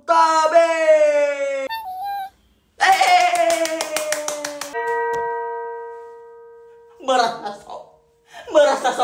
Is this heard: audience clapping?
yes